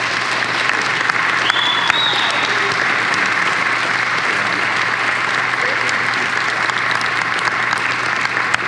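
A crowd at a Buffalo Bills event applauds and cheers in sustained, dense clapping that fills the space loudly and evenly from start to finish.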